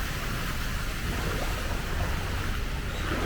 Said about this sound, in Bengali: বাহ, জল তো ওদিক থেকে লেকে আসছে।